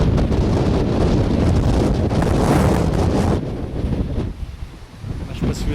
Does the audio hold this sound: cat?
no